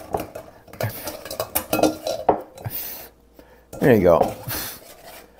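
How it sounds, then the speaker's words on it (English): Tomatoes for a San Marzano marinara are cranked through a manual food mill with grates in the bottom, giving close metallic scraping and clattering strokes, with a person speaking briefly in between. "a food mill has various grates in the bottom. And yeah, it's manual work and you have to do it"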